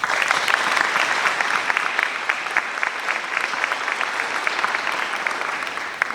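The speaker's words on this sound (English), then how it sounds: "Can we give them a round of applause?" An audience gives sustained, even applause for county educators at the Ocean County Teacher of the Year award ceremony, with dense clapping from a large crowd holding steady throughout.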